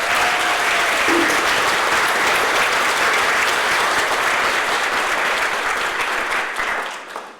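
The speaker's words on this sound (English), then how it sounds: "So let's give everybody an applause." Sustained audience applause fills a room at a community college colleague awards ceremony, loud and dense throughout before tapering off at the very end, with no talk over it.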